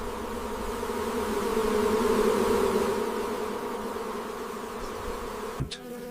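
Himalayan honey bees (Apis laboriosa) buzz in a steady, close drone that swells and fades slightly, ending with a sharp click near the end.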